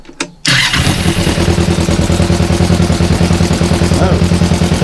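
1996 Kawasaki ER5 motorcycle with a carburetor being tuned, engine cranking briefly then catching and settling into a loud, close, steady rhythmic idle.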